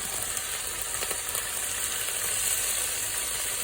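Meat drops into a hot pan for a yacon stir fry, making a dense, continuous sizzle that stays loud and even throughout, with no voices.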